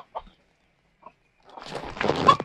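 Two short, faint clucks from farmyard chickens come a second apart in near silence, then a louder rustling, scuffling noise builds toward the end.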